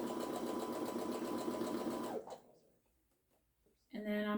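Home sewing machine stitching steadily across a fabric seam and over earlier stitches, a loud even whir for about two seconds, then a pause with faint handling noises before the motor starts up again.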